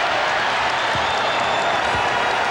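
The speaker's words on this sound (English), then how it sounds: "the Bulls now hearing it from the crowd. They're on their feet at the United Center." Basketball arena crowd at the United Center in Chicago during a 1996 NBA Finals game, Bulls against SuperSonics, a steady loud roar of cheering and applause filling the whole clip with no distinct voices.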